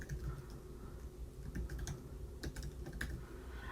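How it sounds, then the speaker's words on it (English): Fingers tap quickly on a computer keyboard, a soft, close run of irregular clicks and key presses with no voices, quiet and continuous for a few seconds. "I like to just start typing so it moves down."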